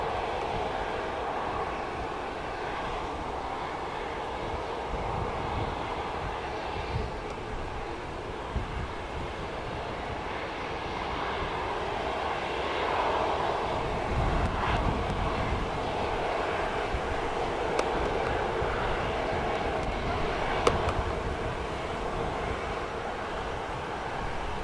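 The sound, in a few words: Turkish Airlines plane landing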